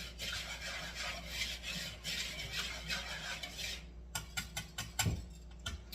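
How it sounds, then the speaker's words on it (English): A whisk stirs dry banana bread ingredients including baking soda in a bowl, a quick scratchy rubbing that goes on for about four seconds and then gives way to a few separate taps and clinks. "Now I'm going to take my whisk and just whisk these two ingredients, or these dry ingredients,"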